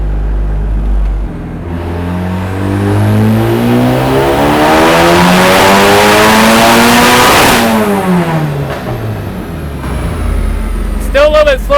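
A turbocharged K24-swapped Miata engine revs hard on a dyno pull, climbing loudly and steadily in pitch to a peak, then dropping off as the throttle closes, with faint chatter near the end.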